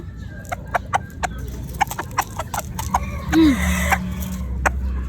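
Hens cluck in short, irregular bursts close by over a steady farmyard hum, with one brief rising squawk partway through.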